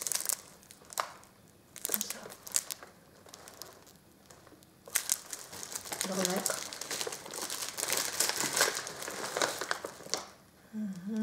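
A small paper wrapper around a cuberdon candy crinkles and crackles up close as it is opened, in scattered bursts that grow denser toward the end, with a person talking in between.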